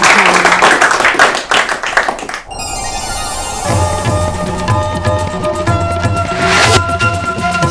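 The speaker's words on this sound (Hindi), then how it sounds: "आपके लिए हम ताली बजवाएंगे क्योंकि आपने हाफ सेंचुरी बना ली है" A studio audience claps for a contestant on an Urdu-language quiz programme, a dense burst of applause, followed by a loud musical sting with sustained tones.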